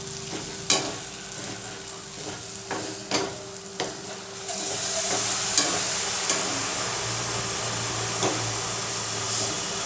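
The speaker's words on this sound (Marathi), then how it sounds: "आता आपण कोळंबी परतवून घेऊया." Prawns sautéing in oily spice masala in a pan, a steady close sizzle with repeated sharp scraping stirs against the pan, the frying growing louder and denser partway through.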